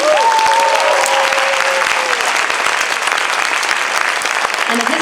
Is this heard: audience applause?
yes